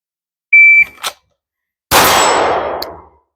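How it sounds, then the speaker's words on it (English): Shot timer at a pistol range sounding one short electronic beep on a random delay, followed after a pause by a single loud gunshot from a holster draw that rings out and decays. "set it up on delay so that you don't know when the beep's coming"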